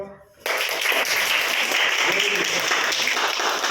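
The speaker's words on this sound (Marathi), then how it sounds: "हे टाळ्या" An audience at a hypnotist's talk on concentration breaks into applause, a sudden burst of dense clapping from many hands that stays loud and steady to the end.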